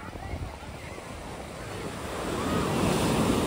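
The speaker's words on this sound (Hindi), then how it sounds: "लहरें देखिए आप, क्या खूब है" Ocean surf rolling in at Marina Beach, Chennai, a steady broad wash of breaking waves with wind buffeting the microphone, swelling louder toward the end.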